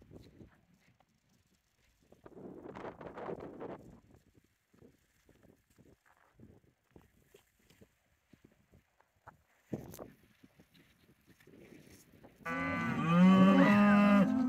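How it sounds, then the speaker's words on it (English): Cattle on a cattle drive in a Northern California national forest give a loud, drawn-out moo near the end. Before it come scattered hoof clops, rustling and faint distant lowing. "pretty soon we found ourselves in the middle of a cattle drive."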